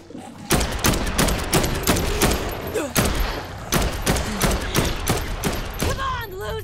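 Sport rifle gunfire in Dead Island 2, a loud run of sharp shots at an irregular, fairly quick pace close by, with a few heavier thuds mixed in and brief game noises near the end.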